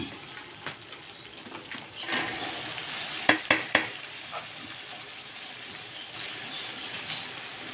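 A pot of sopas soup simmers and bubbles softly while a spoon stirs it, with a few sharp metallic clinks and scrapes against the pot in the middle.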